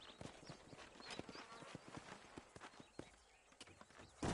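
Horses' hooves clip-clop in Red Dead Redemption, an old-west video game, as a steady run of close hoof strikes under a busy ambient mix, ending in a louder burst.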